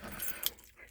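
Car keys jangle close by in a brief, bright metallic rattle beside a 1984 Chevy C10 pickup, with a soft clink near the end and faint background noise.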